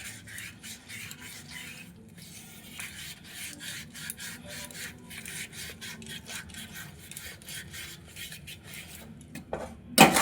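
Brass worship utensils scrubbed and washed by hand, with rhythmic rasping strokes of scouring against metal, quiet and close, then a sharp metallic clatter at the very end.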